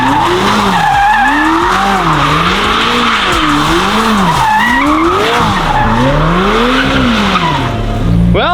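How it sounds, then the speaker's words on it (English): A new supercar spins a donut, tires skidding and squealing in continuous wavering loops over a loud, droning engine, close and sustained with no talk. "Damon, we need a DDE donut to break the 720 in."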